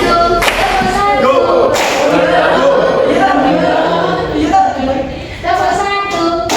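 Children's hands clapping on command in a classroom counting game, several sharp claps amid loud voices and chatter from the group.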